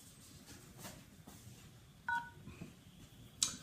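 Touch-tone telephone keypad entering a PIN, a few short separate DTMF beeps, fairly quiet, with no talk over them.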